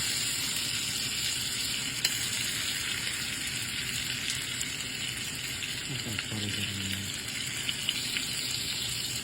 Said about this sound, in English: I just want to get a good little browning on here.